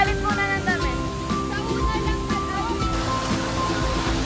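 Rushing water of Taytay Falls in Laguna, a steady broadband roar running throughout, with voices and other sounds faintly mixed in above it.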